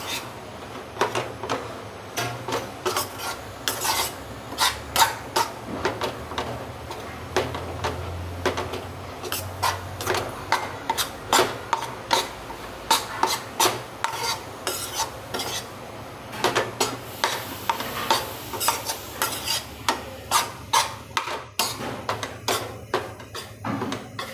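Gram flour roasting in a pan for chana rava barfi, stirred with a utensil that scrapes and clinks against the metal in a steady repeated rhythm, close and fairly loud, with a low sizzle underneath and no talking.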